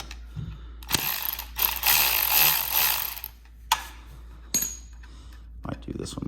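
A ratchet loosening the 14 mm oil drain plug on a DRZ400SM motorcycle, with bursts of rapid close clicking separated by pauses and a few sharp metallic knocks.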